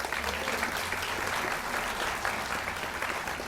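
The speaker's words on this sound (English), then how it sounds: "Let's just another round of applause," An audience at a sustainability summit's opening session claps steadily, a dense, even wash of applause filling the room without letting up.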